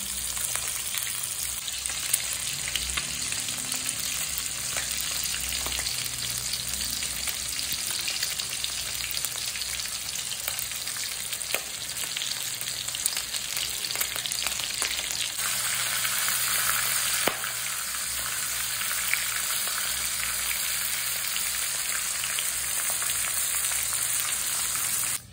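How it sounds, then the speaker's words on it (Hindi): Pieces of rohu fish fry steadily in hot oil, a dense, continuous sizzle with crackling pops running close and loud throughout, with no voices over it. "यहाँ पे फिश फ्राई करके मैं रखना स्टार्ट कर दिया और यहाँ पे फिर से मैंने फिश डाल दिया"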